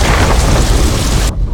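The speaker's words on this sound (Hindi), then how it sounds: "बारिश हो रही है बेटा" Heavy rain pours down in a loud, dense roar with a low rumbling undertone of thunder, cutting off abruptly near the end.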